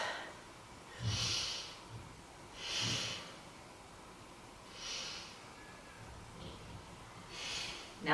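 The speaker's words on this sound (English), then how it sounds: "Take 3 breaths." Slow deep breaths during a beginner yoga session, a few airy inhales and exhales spaced a couple of seconds apart, close but faint over a quiet room, with no talking.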